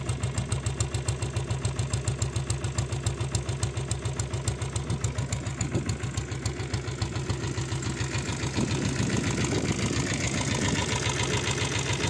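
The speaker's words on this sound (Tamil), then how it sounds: "வண்டி பீட்டு கேளுங்க ஃப்ரெண்ட்ஸ், 7 ஸ்பீடோட பீட்டு." A Diesel Bullet motorcycle fitted with a 7.5 HP diesel engine idles with a steady, rapid, knocking thump, close and continuous, getting slightly louder toward the end.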